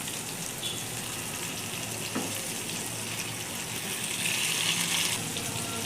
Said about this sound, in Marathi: चला तर मग हलवा मच्छी आपण फ्राय करायला घेऊया.